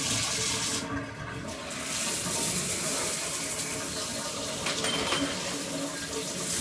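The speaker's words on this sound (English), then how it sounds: "now we're just going to turn on the warm water." Warm water gushes steadily from a shower, a loud, continuous hiss and splash with slight shifts in flow, no voices heard.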